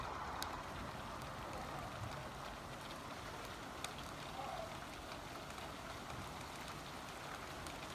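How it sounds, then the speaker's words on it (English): Heavy rain pours down steadily outdoors as a storm sets in, a dense constant hiss of drops on surfaces with no breaks across the stretch. "It just started to really rain."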